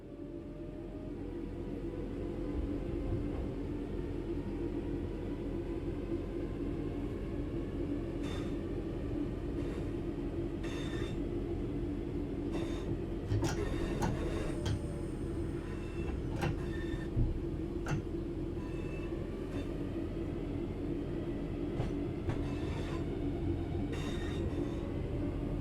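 Train Sim World 5 simulated train driving along at speed: a steady low rumble and rolling hum with faint clicks and rattles, continuous and fairly loud throughout, no voices.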